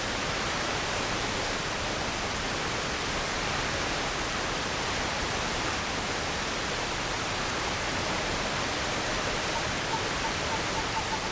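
A waterfall in the video game The Long Dark rushes as a steady, broad hiss of falling water, constant and fairly loud for the whole stretch, with no voices over it.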